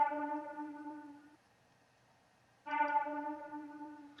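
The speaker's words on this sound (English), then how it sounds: "And then the last one, I got this voices one shot." A voices one-shot sample played in FL Studio for a dark trap melody, two sustained choir-like vocal tones separated by a short silence, bright and harmonic.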